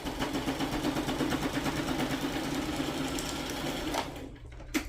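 Sewing machine stitching through a layered craft embellishment cluster, running steadily and loudly with a dense mechanical whir, then stopping near the end, followed by a couple of faint clicks.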